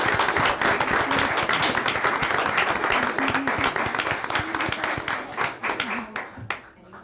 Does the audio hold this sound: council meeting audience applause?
yes